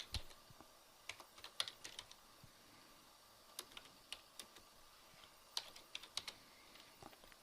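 A computer keyboard is typed on while entering a chart title in Excel: quiet, irregular clusters of sharp key clicks at close range, with no talking.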